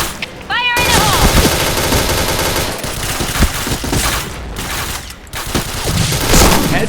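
Repeated bursts of automatic rifle fire in the shooter game Point Blank, loud and close, broken by short pauses, with players talking over the shots.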